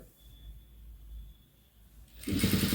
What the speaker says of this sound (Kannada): ತಿರುಗಿಸ್ಕೊಂಡು ಹೊಲಿಗೆ ಹಾಕ್ಕೊಳ್ಳಿ.